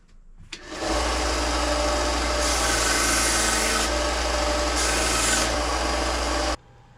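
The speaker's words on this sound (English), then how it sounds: "Now all we have to do is take it to the sander, you guys, and sand it down to size." Osage orange wood for a knife handle grinds against a power sander in a loud, continuous rasping whir that starts abruptly, holds steady with slight swells, then cuts off.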